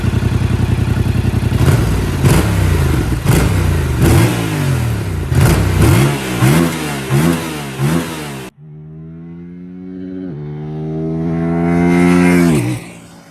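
A 2026 Yamaha R7 motorcycle on its stock exhaust idles, then revs repeatedly in sharp throttle blips. After a cut comes one long, loud rev that climbs and drops, heard close with no voices.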